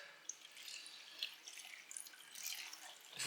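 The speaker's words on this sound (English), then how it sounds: "Okay, so now we got to get the water in there" Tap water runs into a pot to make soup broth in a home kitchen, a faint, steady trickle with occasional drips, alone with no talk.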